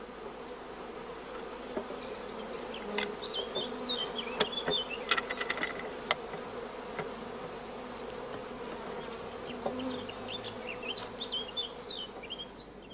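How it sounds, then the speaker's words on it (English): Honey bees buzz steadily around a starter colony used for queen rearing, a dense continuous hum with scattered higher insect whines and faint chirps, no talking. "many young bees are emerging in the starter colony"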